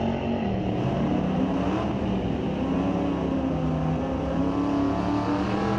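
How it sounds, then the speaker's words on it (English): Turbocharged square-body Chevrolet S10 with a 454 V8 roaring hard down a drag strip at Mission Raceway Park, a loud sustained engine blare with turbo whine rising steadily throughout, no voices. "Listen to that turbo sing."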